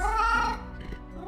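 A single short, melodic cat meow from the video game Death and Taxes, rising then falling in pitch, clear and close with nothing else around it.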